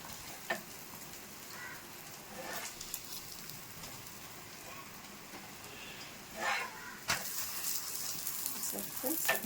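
Neti bobbatlu fry in ghee in a pan, giving a steady soft sizzle with occasional crackles and brief stirring or scraping sounds. The sizzle is close and quiet, with no voices.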